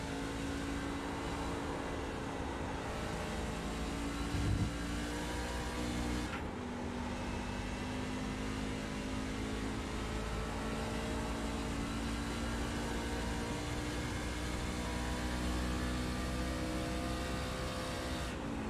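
Racing car engine droning steadily on the Watkins Glen circuit in a sim racing game, a continuous loud hum with slight pitch shifts through corners and a brief dip midway, no talking.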